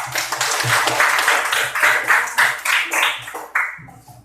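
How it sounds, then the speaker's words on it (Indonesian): Students in a classroom clap for a classmate named Eka, a dense burst of many hands clapping together, close and lively, swelling then fading out within a few seconds, with a voice briefly heard at the end. "Tepuk tangan untuk Eka"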